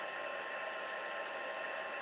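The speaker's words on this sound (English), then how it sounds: "You do need a heat tool." A heat tool blows a steady, even whoosh like a hair dryer while heating embossing powder for crafting, heard alone and close.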